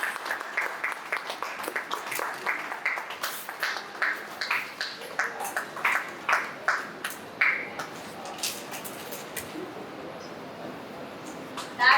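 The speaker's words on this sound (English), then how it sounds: "I think we all need to give a loud round of applause." A book launch audience, among them dignitaries, breaks into a round of applause, steady clapping from a roomful of people that builds, holds and then tapers off, with a few voices faintly underneath.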